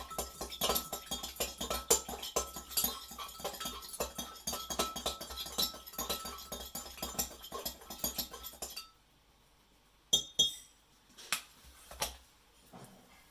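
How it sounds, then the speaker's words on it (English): A saturated borax solution stirred in a container, a quick run of many small clinks and taps of a utensil against the vessel, fairly close, then a pause with a few scattered knocks and scrapes, no talking. "Give it a good stir."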